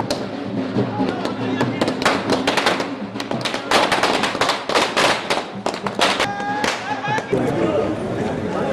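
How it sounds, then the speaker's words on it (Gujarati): Firecrackers burst in rapid, irregular volleys as party workers celebrate, with sharp cracks clustering through the middle, a crowd audible around them and voices mixing with the bangs. "આ સમયે કાર્યકરોએ ફટાકડા ફોડીને પોતાની ખુશી વ્યક્ત કરી હતી"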